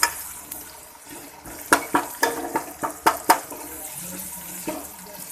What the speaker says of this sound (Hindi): अब हम इसके अंदर टमाटर और मिर्ची डालेंगे।